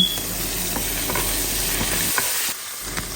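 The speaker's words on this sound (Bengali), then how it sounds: "এবার ফ্রাইড রাইসের জন্য প্যানে তেল দিয়ে দিলাম পরিমাণ মতো লবণ আর আদা রসুনের পেস্ট দিয়ে দিলাম" Ginger garlic paste and salt hit hot oil in a pan for fried rice, giving a close, steady sizzle with stirring scrapes and a brief quieter dip near the end.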